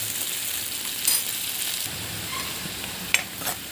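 Onion frying in a pan makes a steady, close sizzle, broken by a few sharp pops and light stirring clinks.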